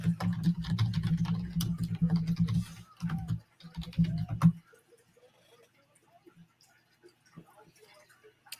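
Computer keyboard typing clicks during a live WrestleMania SmackDown watch-along stream, a scattered run of light taps that continues under talk for the first half and then thins to faint, isolated clicks.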